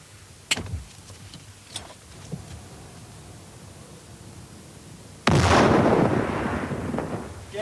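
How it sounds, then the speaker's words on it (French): During military combat training, a few faint distant pops come first, then a grenade blast lands with a sudden loud roar that rumbles on and slowly fades over several seconds. "Attention, grenade."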